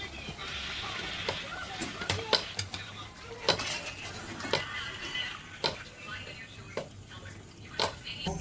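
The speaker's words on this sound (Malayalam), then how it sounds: "അടുത്ത സ്റ്റെപ്പും കൂടി ഞാൻ ഇതുപോലെ ഫ്രൈ ചെയ്തെടുക്കുന്നുണ്ട്" Pathiri frying in a pan of oil, a low continuous sizzle punctuated by sharp metallic clinks and taps of a utensil on the pan, close by, with faint background voices now and then.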